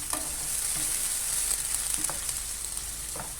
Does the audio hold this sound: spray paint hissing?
no